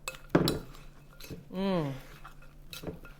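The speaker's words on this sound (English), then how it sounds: "We're going to stir this up." A spoon clinks a few times against a cup while stirring a warm drink made with almond milk; the clinks are brief and close, and a voice briefly hums or talks between them.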